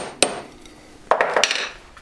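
A hammer strikes a thin piece of metal to flatten it while making a V-claw: one sharp bang, then after a pause a second blow followed by a quick cluster of lighter taps.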